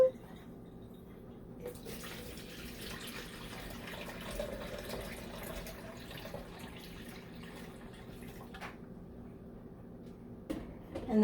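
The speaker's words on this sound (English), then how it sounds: "Okay, let's pour the water." Water poured into the tank of a doTerra Dawn humidifier, a quiet, uneven trickling and splashing that runs throughout, with a few brief louder knocks near the end.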